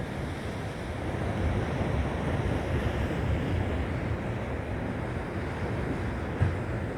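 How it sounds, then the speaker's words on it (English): Ocean water laps lightly against coastal rocks in a steady, soft wash, with wind noise buffeting the microphone and no talking. "Lightly splashing against the rocks here."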